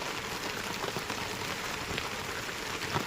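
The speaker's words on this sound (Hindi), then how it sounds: "सहित पूरे पछवा दून में सुबह से लगातार बारिश हो रही है।" Steady morning rain over Pachhwa Doon in Uttarakhand, a constant soft hiss of drops on surfaces with scattered louder patters, heard alone.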